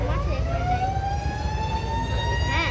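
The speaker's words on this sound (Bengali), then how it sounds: "একটা লঞ্চ আসছে, লঞ্চের আওয়াজ আসতেছে" A passenger launch boat passing with its horn sounding, a steady, loud, slightly rising tonal blare that lasts the whole moment over a low engine rumble.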